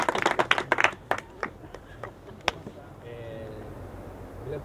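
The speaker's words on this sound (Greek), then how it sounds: "Χειροκρότημα." Brief clapping from a small audience at a presentation of a Cycladic music work for harp, a short scattered patter of hands that quickly fades, leaving faint room sound and soft tonal hum afterward.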